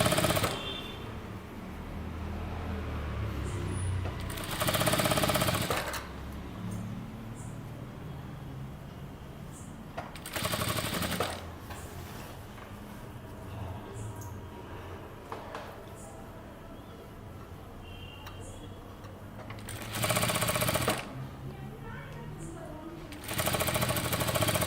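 Sewing machine stitching the sleeve of a boat neck kurta, sounding in short bursts of rapid whirring near the mic around a few seconds each, separated by quieter gaps with a person talking.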